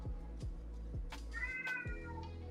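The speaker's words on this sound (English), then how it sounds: "My black cat's yelling at me. He wants attention." A black cat meows insistently for attention, with a few loud, drawn-out calls standing out clearly above a steady low background hum.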